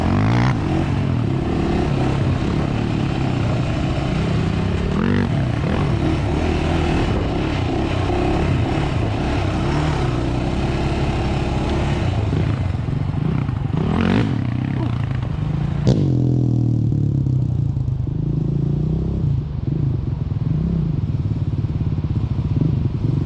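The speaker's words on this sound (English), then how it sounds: "We just wanted to take the four-wheelers out for a little ride, kind of blow off some steam." Honda TRX400 and TRX450 four-wheelers riding off-road, a continuous loud engine drone with revving swells and rattling clatter, close and steady throughout.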